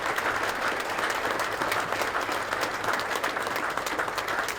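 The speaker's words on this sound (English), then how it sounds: "let's give the Marines and our band a round of applause for the great effort" Sustained applause from a large audience at a Marine Corps ceremony, steady and full throughout, with no voices standing out above the clapping.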